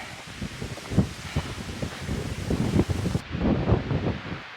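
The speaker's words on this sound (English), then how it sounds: "It's just a little too windy up here." Strong, gusty wind on a mountain along the Pacific Crest Trail buffeting the microphone in heavy low rumbles, with rustling noise rising and falling throughout.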